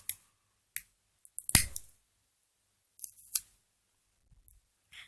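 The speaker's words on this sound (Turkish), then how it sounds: "Şimdi şuraları da bantla etrafını çevireceğiz." Adhesive tape is wrapped around a pen: sparse, sharp crinkles and snaps of tape come close by, with one louder tearing crackle and long quiet gaps between.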